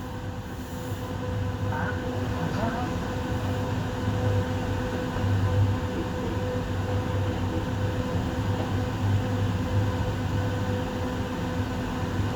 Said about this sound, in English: Now that train that just passed us is headed towards du Montagne.